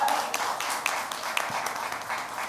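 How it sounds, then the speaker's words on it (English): Applause from an audience at a trailer launch event: a steady wash of many hands clapping together, sustained and fairly even throughout, with no voices standing out above it. "let's make some noise and welcome them with a thunderous round of applause"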